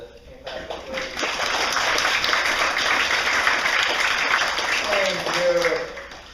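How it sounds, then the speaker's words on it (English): A church congregation clapping in welcome during a Sunday morning service, a broad wash of hand claps swelling and holding for several seconds, with a voice speaking briefly before and after. "greet him in the name of the Lord with a hand clap of praise?"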